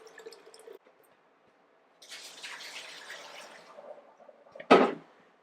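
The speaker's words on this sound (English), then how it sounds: "I'm going to let it go through my spigot, at least a good bit of it, to dissolve any mineral deposits that are built up on my spigot." Water trickles and splashes from the spigot of a Berkey countertop water filter during cleaning, a broadband running stream of a few seconds, preceded by faint drips and ending with a louder clunk or splash near the end.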